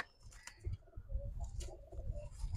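High flyer pigeons coo softly in a close, low murmur, with a few faint rustles and clicks in the background.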